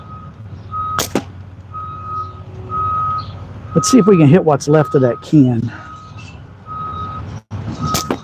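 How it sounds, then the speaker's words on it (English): Road construction trucks reversing at an outdoor shooting spot, sending a steady repeating backup beep from a moderate distance that runs under a man's speech throughout. "you just heard a bunch of trucks from the road construction crew"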